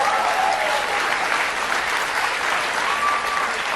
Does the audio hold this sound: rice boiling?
no